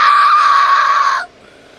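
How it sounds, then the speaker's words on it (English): One loud, sustained high scream in a horror story narration, held steadily for over a second and then cut off abruptly into near silence. "Then he screamed."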